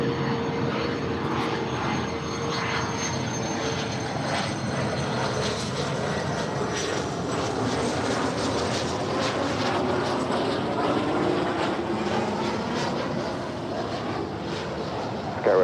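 A NetJets aircraft arriving from Santa Monica taxis at LAX airport, a steady, loud engine roar and whine that holds evenly throughout with no talk.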